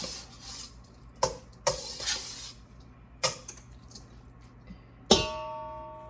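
Canned beef enchilada ingredients stirred into a pan, with a few sharp scrapes and clanks of a utensil against the pan between softer stirring and a faint sizzle.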